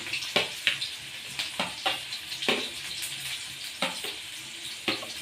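Green chillies and onion fry in a pan, a constant hiss of frying broken by regular sharp scrapes and clatters of stirring, close and fairly loud, with no speech.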